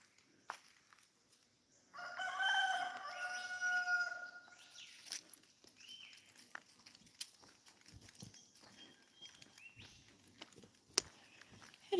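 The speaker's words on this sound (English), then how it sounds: "Something scared the chooks off the nest." Hens startled off their nest give off a loud, drawn-out rooster-like crow followed by scattered clucks, rustling and footsteps at moderate distance in a quiet yard.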